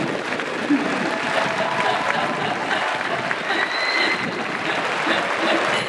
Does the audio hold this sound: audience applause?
yes